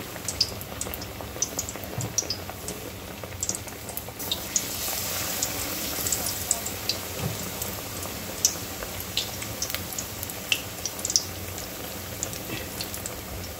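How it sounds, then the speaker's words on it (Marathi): Bread pakoras frying in hot oil, a soft continuous sizzle with scattered tiny crackles and pops, fairly quiet and steady throughout. "तेल छान गरम झालेलं आहे. यामध्ये आपण आता आपले ब्रेड पकोडे सोडून घ्यायचे आहे."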